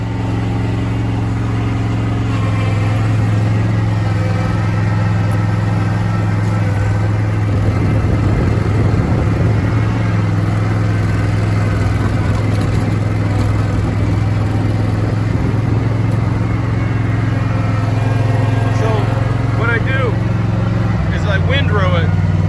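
A lawn mower engine drones steadily throughout while it is used to rake grass into a windrow, with a person talking over the running motor.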